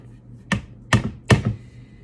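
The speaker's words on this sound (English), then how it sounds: "So now we're gonna add the egg." An egg being added to oatmeal cookie dough, three crisp knocks of the shell against a bowl rim spaced about half a second apart, close and clear against a quiet background.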